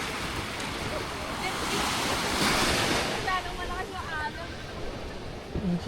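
Ocean waves wash and surge at night beside a small boat, a broad rushing roar that swells in the middle, with wind buffeting the microphone and faint voices underneath.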